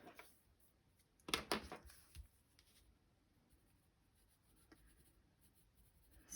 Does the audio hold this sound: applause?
no